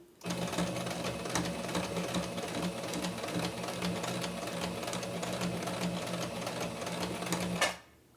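Sewing machine stitches a dish towel in one steady, rapid, mechanical run of needle strokes, close and moderately quiet, stopping abruptly near the end.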